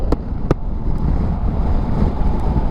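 Heavy, low wind buffeting roars steadily close to the microphone inside a Shark D-Skwall 3 motorcycle helmet with the visor closed, a constant rumbling rush with a couple of faint clicks early on.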